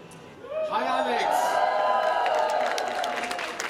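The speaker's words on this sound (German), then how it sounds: "Applaus auf dem Marktplatz in Künzelsau." A large outdoor crowd on the market square in Künzelsau breaks into applause and cheering, swelling into a steady, dense roar after a voice is heard briefly at the start.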